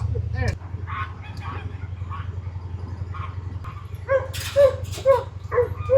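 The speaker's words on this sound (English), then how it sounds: "Come on, puppies." Puppies yip and bark in a home kitchen, a run of high, short, excited yelps that grow louder and quicker toward the end, over a steady low hum, with people talking in between.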